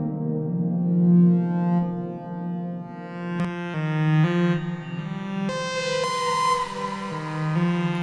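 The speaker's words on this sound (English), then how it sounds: "You can hear that pre-delay thing there, giving us a little bit of pitch shifting" XAOC Devices Timiszoara reverb on a modular synth, its pre-delay pitch-shifting sustained tones into stepped, shimmering chords that jump to new pitches every second or so, alone and fairly loud.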